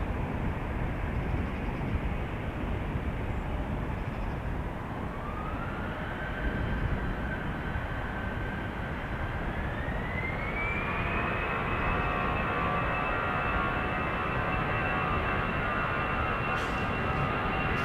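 An EasyJet Airbus airliner takes off from runway 36L at Amsterdam Schiphol Airport, a continuous broad roar of jet engines with a rising whine layered on top, steady and loud throughout without speech.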